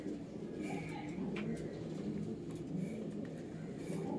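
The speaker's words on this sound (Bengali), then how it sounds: "দেখুন এটা টিপলার পায়রা আছে," A home-bred tippler pigeon gives soft, low coos that are partly buried in a steady background hum, with a few faint higher chirps scattered through.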